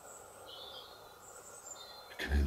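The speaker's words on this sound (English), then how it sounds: "You can hear the birds outside" Faint, distant birdsong drifting in from outside a care home in Wales: thin, high chirps over a quiet room hiss, ending with a soft thump.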